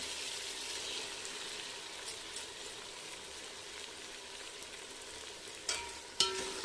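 Tomatoes and yogurt sauté in a pan for seeraga samba mutton biryani, giving a soft, steady sizzle with faint stirring scrapes and two sharp metallic clinks near the end, quiet and close with no talk.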